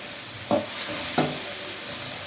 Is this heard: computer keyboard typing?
no